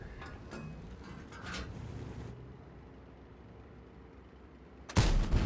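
A heavy tank gun in World of Tanks fires with a sudden loud blast near the end, preceded by faint distant shots and low rumbling engine noise.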